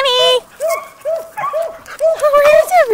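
Pocket beagle puppies yipping and barking in quick, high-pitched repeated bursts, loud and close, with whimpery whines mixed in as several pups play together.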